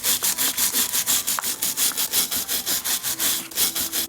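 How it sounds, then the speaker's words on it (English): A brass wire brush scrubs a cuckoo clock part (G.M. Angem Regula 25 movement) coated with toothpaste, giving a close, steady back-and-forth rasping with even strokes, roughly three per second, and no voices. "rubbing relatively heavily. With the brass brush."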